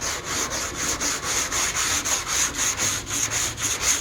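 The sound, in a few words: block sanding a car hood, 1970 Chevelle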